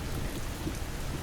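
Steady rain drums on a car at night on a New York City drive, a dense, continuous hiss and patter with low rumble beneath, close and even throughout, with no voices.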